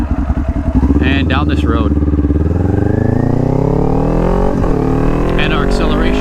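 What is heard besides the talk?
motorcycle engine revving with rev matching, accelerating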